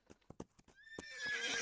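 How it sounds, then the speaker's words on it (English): Wild horse in the Wild Horse Islands video game: a few quick hoof clops, then a clear rising whinny that swells into a loud, breathy neigh close by. "I know there's this horse here, right?"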